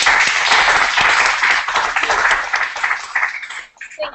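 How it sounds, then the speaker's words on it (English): A meetup audience applauds a speaker being welcomed to the front, a dense, steady burst of many hands clapping that thins out and tapers off near the end, with a faint voice underneath. "let's give a round of applause for Jackie Jimenez."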